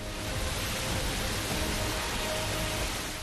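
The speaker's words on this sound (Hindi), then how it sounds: "नदी की प्रवाह की आवाज आप सुन सकते हैं।" Sonrakh river in Junagadh, Gujarat, flooded and flowing fast after torrential rain, giving a dense, steady rushing roar of water throughout with no voices.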